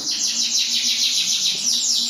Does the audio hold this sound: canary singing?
yes